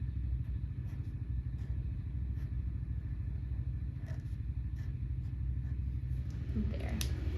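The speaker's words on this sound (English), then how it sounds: "That motorcycle is gonna drive me crazy." A motorcycle rumbles past outside, a low continuous engine drone heard faintly from a distance, with small clicks and scratches nearby.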